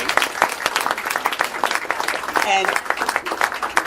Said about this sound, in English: how about a global round of applause for your classmates?